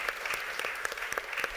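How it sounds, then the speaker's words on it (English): An audience at an engineering education conference gives a quick round of applause, a dense, steady patter of many hands clapping together at even loudness throughout. "Please give them a quick round of applause"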